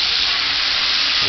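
Shallots, sun-dried tomatoes and garlic sizzle loudly in a hot pan as they are stirred, a close, steady frying hiss that never lets up.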